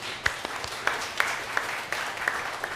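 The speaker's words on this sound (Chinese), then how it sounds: "咱甲拍手" Scattered applause from a small group, individual claps popping out in a loose, uneven rhythm at moderate volume.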